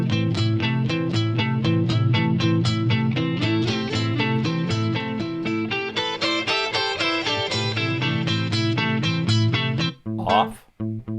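Electric guitar through a Line 6 HX Stomp harmony delay effect, a dense wash of layered pitched repeats and harmonies filling out a continuous riff, loud and close, ending with a brief burst of noise.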